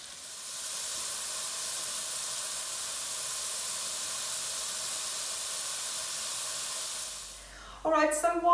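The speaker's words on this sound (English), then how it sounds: "while the shallots are cooking behind me" Shallots frying in a pan on a stove turned down to low, giving a steady, even sizzle and hiss that runs unbroken for several seconds before a brief clatter near the end.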